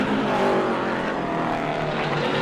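A super late model race car roars through its final qualifying lap at Auburndale, a loud, continuous close engine drone that sweeps slightly in pitch over the short stretch.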